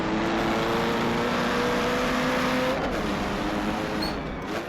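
Race car engine in a 1939-era grand prix racing game at Hockenheim, a loud, close, sustained high-revving drone that shifts pitch with gear changes and fades slightly toward the end.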